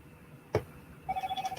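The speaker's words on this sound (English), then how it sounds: "Somebody's texting me through my phone over there beeping." Phone alert tones from a mobile receiving an incoming text, a quick run of about eight short, evenly spaced beeps from across the room after a single soft knock, no talking.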